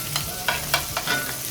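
Steak frying in a pan with butter melting alongside rosemary and thyme, a close sizzle broken by several short scraping or spooning strokes in an uneven rhythm, no voices.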